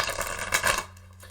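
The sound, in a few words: shuffling tarot cards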